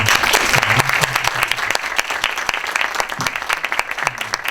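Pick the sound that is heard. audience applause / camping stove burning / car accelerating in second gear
audience applause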